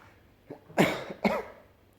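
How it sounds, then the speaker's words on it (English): Two harsh, close coughs in quick succession, preceded by a faint catch of breath. "And this fucking cough I have."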